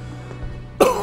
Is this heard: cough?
yes